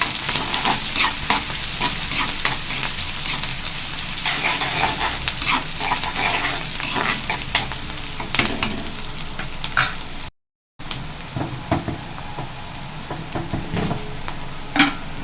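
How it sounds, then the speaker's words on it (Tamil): Onions sautéing in a pan for drumstick thokku, a steady close sizzle with repeated scraping stirs throughout and one brief gap, no voices. "வெங்காயம் நல்லா வதங்கட்டும்."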